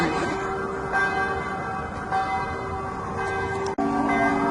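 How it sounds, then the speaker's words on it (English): Church bells in Ottawa, Canada ring out over a busy outdoor background, their tones repeating steadily, with one sharp knock near the end. "Oh, they're ringing the bells."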